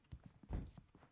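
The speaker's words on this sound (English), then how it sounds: "I hear so many footsteps." Footsteps in a video game, a few soft, uneven steps close by with a heavier thud near the middle, quiet overall and with no talk over them.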